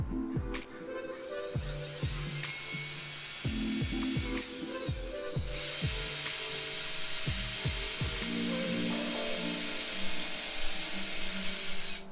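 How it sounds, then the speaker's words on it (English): A power drill whirs in repeated short bursts, spinning up and winding down as it bores holes, followed by a longer steady high-pitched run. "we're gonna drill some pilot holes and get everything together"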